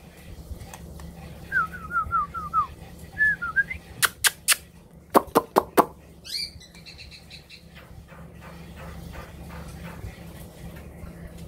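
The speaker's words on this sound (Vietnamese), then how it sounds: "Chim nuôi 1 năm rồi anh em." A caged white-rumped shama from Dak Nong, kept for a year, sings close by with whistled phrases, sharp loud clicking notes and rapid trills, then falls quiet over a steady low background hum.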